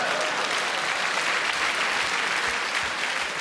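Steady, dense applause from a comedy club audience fills the room, continuous and fairly loud throughout with no voices over it.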